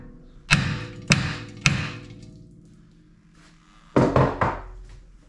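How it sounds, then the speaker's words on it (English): Several hard metallic whacks strike a seized rear brake part on a 2009 Volkswagen Golf Mk6 2.0 TDI: three sharp, close blows about half a second apart, a pause, then a quick cluster of two or three more hits. "a good tip is just to give it a whack"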